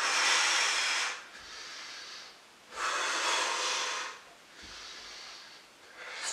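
Heavy breathing during bodyweight ab crunches: loud hissing exhales alternate with quieter inhales in a slow, even rhythm, close to the microphone, with no talking.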